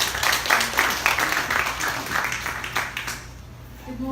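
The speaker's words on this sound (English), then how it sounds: "Let us give her a warm round of applause." An audience at a computer-delivered IELTS launch event gives a speaker a warm round of applause, dense and steady at first, then thinning out as it fades toward the end.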